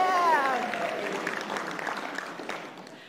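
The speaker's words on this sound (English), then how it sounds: "did you guys notice how everybody cheered when he got one?" An audience at a church gathering cheering and applauding, a dense burst of clapping with a rising shout at the start that slowly fades, with people talking through it.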